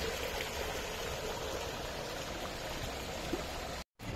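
Fast-flowing water rushes steadily from a well in Madinah, a continuous loud broadband gush close by, with a brief dropout near the end.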